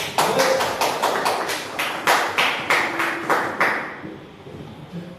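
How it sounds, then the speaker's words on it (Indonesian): A classroom group claps in a slow, loosely synchronized rhythm for a student group's presentation, about a dozen distinct sharp claps close by that fade out toward the end. "Silakan tepuk tangan, sangat bagus."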